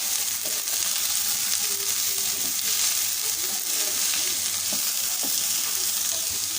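Mixed vegetables and beans stir-fried in a pan, a steady, loud, close sizzle running throughout with soft scraping and stirring sounds underneath and no talking.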